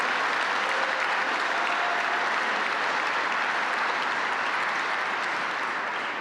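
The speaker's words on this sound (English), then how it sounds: "Let's give him a great big round of applause." Sustained applause from an audience at an awards celebration fills a room, steady and fairly loud, fading slightly toward the end.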